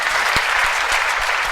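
An audience at a comic poetry recital claps in a dense, steady burst of applause, close and loud throughout, with a few sharper individual claps standing out.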